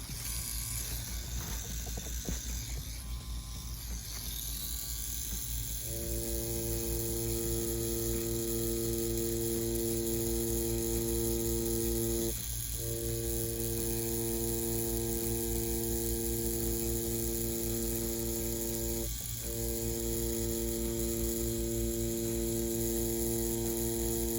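InkClaw Challenger tattoo machine buzzing steadily and close for a long stretch, a constant mechanical whir with faint hum and two brief dips, no talking.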